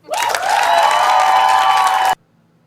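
A studio audience bursts into loud, dense applause at a live talk show taping, sustained clapping for about two seconds that cuts off abruptly into silence.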